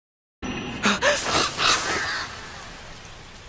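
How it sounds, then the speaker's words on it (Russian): Crows cawing in an Attack on Titan anime scene: several harsh caws in quick succession, loud and close, fading into a lingering wash of background noise. "Черные птицы в атаке титанов всегда предвещают беду и смерть."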